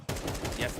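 Rapid gunfire in a competitive Counter-Strike match, a dense continuous burst of loud shots with a brief cut-in at the start.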